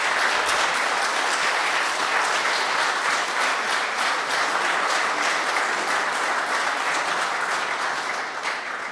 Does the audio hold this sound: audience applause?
yes